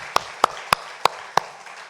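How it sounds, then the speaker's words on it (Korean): A church congregation claps in unison: five loud, crisp claps at a steady, slightly slowing beat, then quiet room tone. "다시 한번 경례의 박수 한번 할까요?"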